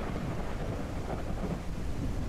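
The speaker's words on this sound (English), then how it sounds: "I love the rain. I'm the one who did the thunderstorm." Video game thunderstorm: a dense, steady wash of heavy rain with low rumbling thunder, loud and continuous with no voices.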